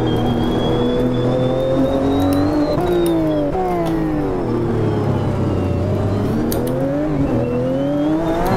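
A GTE race car's engine in Automobilista 2 roars loudly and continuously, the pitch climbing through the revs and then dropping sharply at each of several gear shifts.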